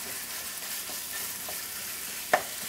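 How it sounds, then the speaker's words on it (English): Hot Italian turkey sausage sizzles steadily in a frying pan while being stirred and broken up, with a constant close crackle and one sharp scrape of the utensil near the end. "Next, I'm gonna add the hot Italian sausage."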